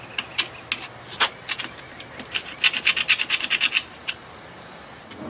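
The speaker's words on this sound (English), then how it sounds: "I'm just scraping all this carbon crap out best I can." A hand scraper works carbon deposits off a part of a 1971 Johnson 20 hp outboard motor, producing a series of close, sharp scratching strokes. The strokes start sparse, then come in a quick rhythmic burst before stopping.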